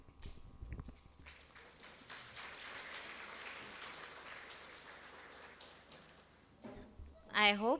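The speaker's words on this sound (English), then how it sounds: "if we can please clap hands for Sheila as she receives the appreciation gift" Scattered applause from an audience at an actuarial society annual convention in Zimbabwe, moderate and steady for several seconds before trailing off, with a voice briefly talking at the end.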